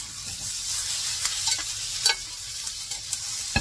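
Menudo, a Filipino pork stew, is stirred in a hot pan, with soft scraping strokes over a steady low sizzle, close and quiet.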